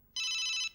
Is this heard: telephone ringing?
yes